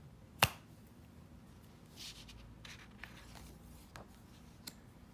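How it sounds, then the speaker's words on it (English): A single sharp finger snap rings out close and clear near the start, followed by faint soft rustling and a few light taps in a quiet room, with no talking. "Fingers snap."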